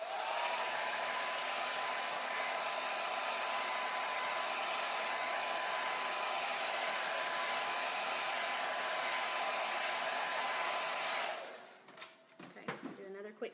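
A hair dryer roars steadily at close range for about eleven seconds, drying paint on a painted Halloween owl door hanger, then switches off, leaving faint handling noises.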